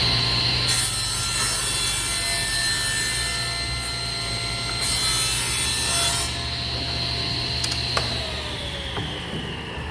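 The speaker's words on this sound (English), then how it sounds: "We're just gonna take a wee little bit off right here" A table saw runs steadily as it cuts a bevel along the edge of a piece of wood, the blade whining loudly and continuously under load before spinning down near the end.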